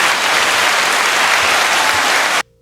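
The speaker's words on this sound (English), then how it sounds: "Them applause get louder on the back end" A big crowd applauds loudly and steadily at a sports show prize announcement, a dense wash of clapping that holds for over two seconds and then cuts off abruptly.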